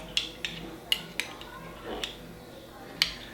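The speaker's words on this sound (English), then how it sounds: "Stir that honey into it" A metal spoon stirring honey into homemade elderberry syrup, with sharp clinks against the pot at an irregular rhythm, close by, and a faint voice in the background.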